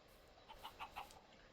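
A Minecraft chicken gives a few quick, faint clucks in a short run over quiet game background.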